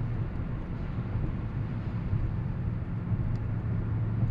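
A Dodge Charger Daytona 392 is driving, heard from inside the cabin as a steady, continuous low road and engine rumble with no talking.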